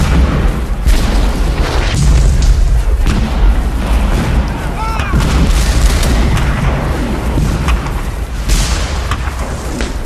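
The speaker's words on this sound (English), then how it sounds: "For more than an hour, Confederate guns pound the Federal center." Civil War artillery barrage at the Battle of Shiloh, Confederate cannons pounding the Federal center, heard as a dense, continuous rumble of booms and blasts with voices mixed in throughout.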